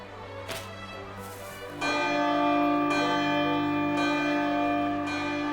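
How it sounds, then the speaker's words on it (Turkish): Festive church-style bell rung at a winter festival in a snowy land, its long tonal strikes ringing out loud and sustained, with overlapping resonance lasting through each stroke. "Çanı çalsan iyi olur."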